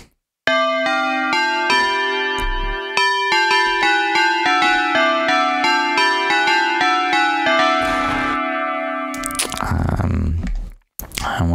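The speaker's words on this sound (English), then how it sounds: "Some tubular bells." Tubular bells patch from a Universal Sound Module, played as a run of struck, ringing bell-like notes with long sustained overtones that overlap and decay, ending in a brief noisy burst near the close.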